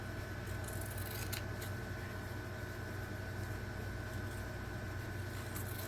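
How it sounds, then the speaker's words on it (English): Steady, close snipping of scissors through shirt fabric around a zipper, repeated cuts blending into a constant rustling hum with a low background drone, no talking. "I'm just going to cut right around here"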